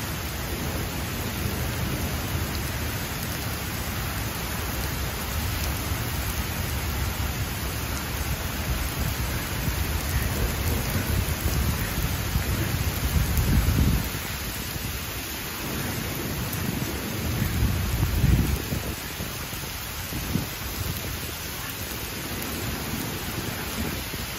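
Steady rain falls outdoors during a workout session, a dense continuous hiss with brief heavier swells around the middle, no voices.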